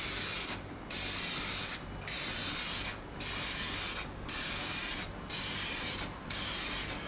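Aerosol spray can laying a thin primer coat onto a car headlight, heard as six steady hissing bursts of about a second each, separated by short pauses, close and loud.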